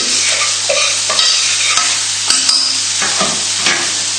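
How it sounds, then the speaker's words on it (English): A fork scrapes and clinks against a pan in irregular strokes, mixing oil through, with a soft, steady sizzle-like hiss underneath. Close and fairly loud, no voices. "mix it together in the pan with a fork, just to mix the oil through"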